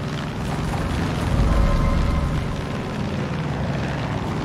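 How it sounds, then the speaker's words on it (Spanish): An enemy propeller airplane in Far Cry 5 drones loudly and steadily, swelling briefly as it passes overhead, with no voices. "Eso suena a avión enemigo."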